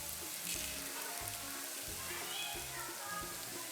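Fenugreek seeds frying in oil in a pan on low heat while cooking a fried okra curry, a steady close sizzle with soft crackling pops, with no talk.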